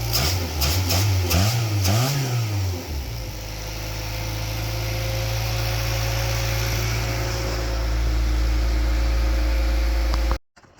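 A freshly reassembled car engine cranks with a rough, uneven rhythm for a few seconds, then catches and settles into a loud, steady idle close by before cutting off abruptly near the end.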